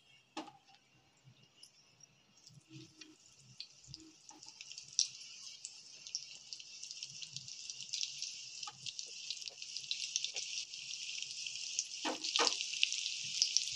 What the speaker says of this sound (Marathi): तेल तापलेलं आहे, आता आपण एक एक करून हे पापलेट तव्यावर टाकत आहे